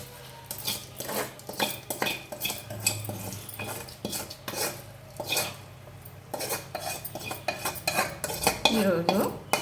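Tempering being stirred into a drumstick leaf curry, with repeated metal spoon scrapes and clinks against the pot in an uneven rhythm, close and clear, no talk.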